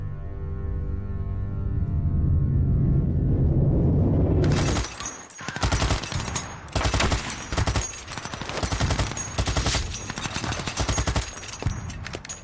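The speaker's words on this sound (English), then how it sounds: "They emerge from their trenches to face fierce German machine gun and artillery fire." Battle of the Somme combat: a low rumbling swell gives way to rapid, dense bursts of German machine gun fire mixed with booming artillery, loud and sustained with no voices.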